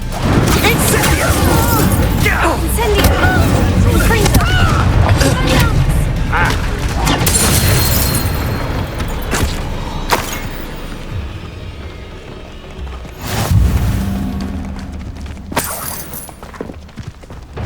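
Spell blasts and explosive impacts from Incendio and Confringo in the Hogwarts Legacy video game, loud booms and crashes layered with dense combat effects and character voices talking throughout.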